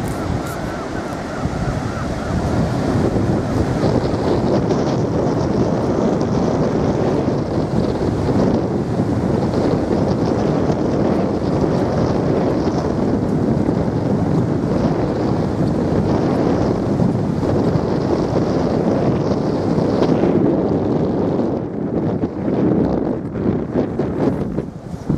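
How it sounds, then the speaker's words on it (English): Strong wind roars across sand dunes on the beach at Harlech, a loud, continuous buffeting rush battering the microphone for the whole stretch with no talking. "Still very breezy."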